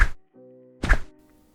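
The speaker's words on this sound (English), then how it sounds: "This is the sound of jumping and landing." Video game jump and landing sound effects for a dino character in a Unity indie multiplayer game: a short thump, a brief buzzy tone, then a second soft thud, close and clean with no talking.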